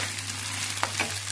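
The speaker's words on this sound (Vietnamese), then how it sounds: "Mình cho cơm vào mình chiên." Cooked rice fries in hot oil in a pan, giving a loud continuous sizzle with brief scraping stir sounds partway through.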